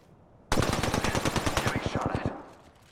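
Apex Legends machine-gun fire erupts suddenly in a rapid, evenly spaced burst of about twenty loud shots lasting nearly two seconds, then cuts off and fades.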